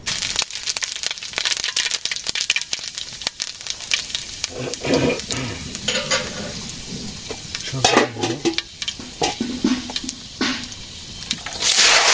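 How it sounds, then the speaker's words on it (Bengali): Oil frying and sizzling in a pan on a village stove, with steady crackle and occasional stirring scrapes, close and fairly loud throughout. "চুলাতে তেল দেওয়া হয়েছে"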